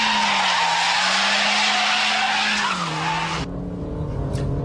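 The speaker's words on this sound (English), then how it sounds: "you've got to flick left, then right, let the tail go right out, and then hammer the throttle to bring it straight" A front-wheel-drive car drifts through a Scandinavian flick, its tires skidding and squealing loudly and continuously beside a steady engine drone, with the engine note dropping and the squeal cutting off near the end.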